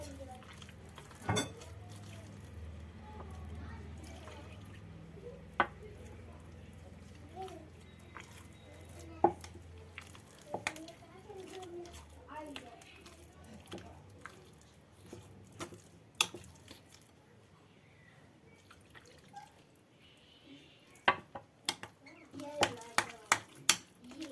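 Boiled, peeled sweet potatoes mixed with a cup of milk are stirred into a purée, with quiet scraping and clinks of a utensil against the pot and sharp knocks scattered throughout as a person speaks intermittently.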